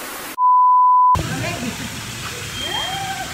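A camera self-timer beeps once, a long, steady electronic tone lasting under a second, before outdoor background noise and faint voices return.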